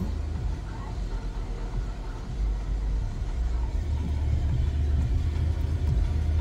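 Large car engine rumbling low and steady while reversing slowly, close by and continuous, with a faint voice or two in the background.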